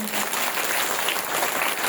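An audience at a religious discourse gathering claps loudly and continuously in dense, sustained applause from many hands, filling the whole moment.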